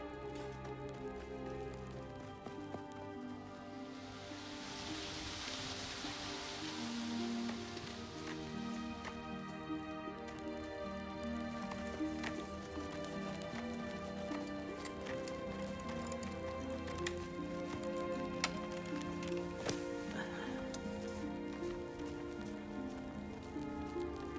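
Steady rain falling and pattering on a surface, a constant even wash of drops throughout, with some background music underneath.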